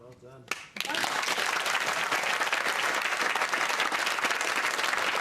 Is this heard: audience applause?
yes